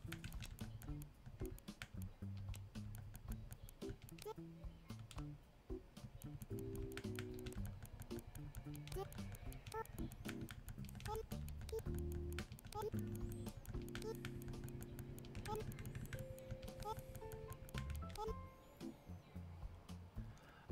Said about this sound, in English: I love how they just squeaked out the letters when I was typing it.